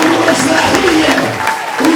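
A congregation at a church worship gathering claps hands in loud, dense applause that runs steadily throughout, with a voice faintly audible within the crowd noise.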